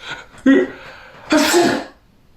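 A reader's voice imitating a king's wheeze in a storybook reading, two breathy bursts with a harsh, airy second one, close and fairly loud with no other talk.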